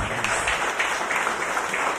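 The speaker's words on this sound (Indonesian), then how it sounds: "Beri tepuk tangan yang meriah begitu" A church congregation gives enthusiastic applause during a sermon, a continuous, fairly loud wash of many hands clapping with no clear breaks.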